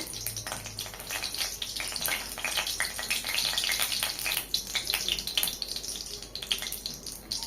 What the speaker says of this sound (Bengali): কড়াতে তেল দিয়ে দিয়েছি, আবারও কালো জিরে ফোড়ন দিয়ে দেবো।